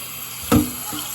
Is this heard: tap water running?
yes